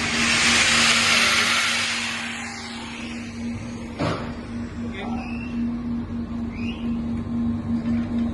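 A grinder powered by a flywheel generator roars with a broad, loud whine for the first couple of seconds, then winds down into a lower steady hum with a single sharp knock.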